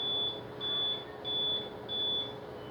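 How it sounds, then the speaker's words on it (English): An APC BR1000G UPS beeps in a high, thin tone: four evenly spaced beeps of roughly half a second each in a steady repeating rhythm, heard alone over a faint background hum. "So continuous beep noise can be seen."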